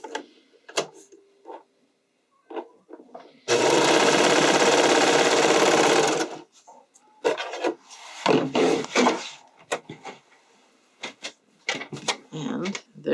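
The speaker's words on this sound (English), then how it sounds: "just make sure you're sewing through all layers" A sewing machine stitches through two layers of spandex and two layers of lining for a bodysuit in one continuous burst of about three seconds, surrounded by scattered handling, rustling and fabric rubbing.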